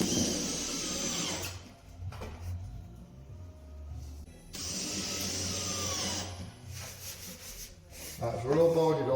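A power drill drives 32mm screws through 15mm board into 15mm timber during a drywall repair. Two long whirring bursts sound close and loud, separated by quieter handling noise, and a voice is heard near the end.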